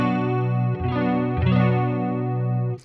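Guitar through a chorus effect on a Line 6 Helix, a sustained shimmering chord with wavering pitch, re-struck twice, loud and alone with no talk.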